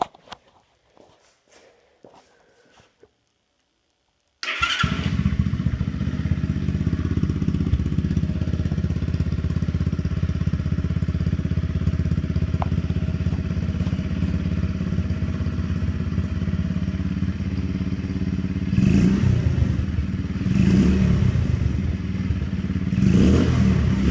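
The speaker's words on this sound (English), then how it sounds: "Now it's time for a sound test. See what that nice big shiny muffler there really does." A mini chopper motorcycle engine running through a big shiny muffler starts after a few quiet seconds, then settles into a loud, steady, close idle rumble, with a couple of brief revs near the end.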